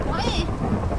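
A thunderstorm from a pony-themed video game rumbles with dense rain and low thunder, a steady loud wash of noise throughout the short stretch.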